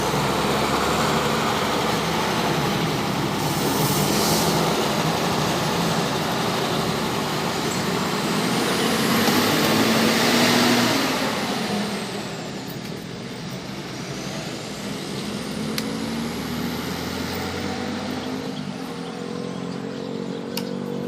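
A bus pulls out of the Pekanbaru bus terminal, its engine a loud, steady roar that swells and then eases slightly as it moves away, with a faint whine rising and falling above the rumble.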